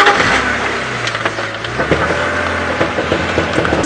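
A safari vehicle's engine runs and revs at moderate volume while the vehicle turns around outdoors, with intermittent knocks and rattles and no speech.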